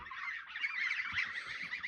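A flock of French domestic geese honks continuously up close, a dense, overlapping chorus of harsh calls.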